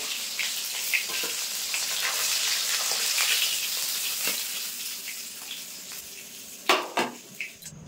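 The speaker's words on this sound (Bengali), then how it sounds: "বেশি কড়া করে ভাজবো না, একটু হালকা লাল করে ভেজে নিয়েছি মাছগুলো।" Small sarputi fish frying in oil until lightly reddened, a close, dense sizzle and crackle running steadily, ending with a few sharp clinks and scrapes of utensils against the pan.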